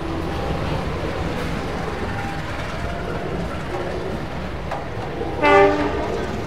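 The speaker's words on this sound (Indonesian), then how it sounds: "Tuh, keretanya tuh lewat" An economy-class passenger train rumbles past near Malioboro in Yogyakarta as a steady low roar, with a brief horn-like tone rising near the end.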